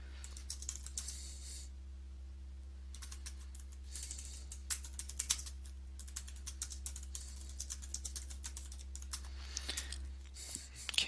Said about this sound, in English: we'll just type in a quick instruction